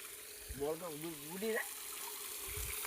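Water runs steadily from a tap as freshly picked tomatoes are washed on a farm, a soft continuous gush under a person's voice talking nearby.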